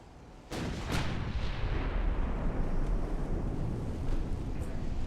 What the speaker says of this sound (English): He's gonna fire them as soon as they're ready, essentially.